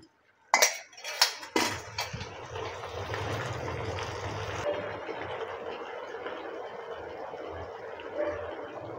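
Plates and cutlery clink and clatter close by in a few sharp knocks while chili chicken is plated, followed by a steady washing hiss like running water, with no voices.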